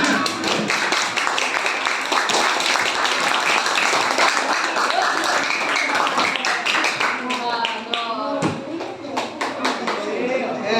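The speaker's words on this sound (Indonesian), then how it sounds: "tepuk tangan untuk kita semua" Elementary classroom pupils clap together in sustained applause, dense close hand claps for several seconds with children's voices and chatter mixed throughout.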